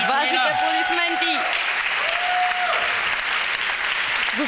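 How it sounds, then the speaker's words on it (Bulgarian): A studio audience applauds after a live televised singing performance, a dense, steady wash of clapping with voices carrying over it. "Вашите аплодисменти за Николина!"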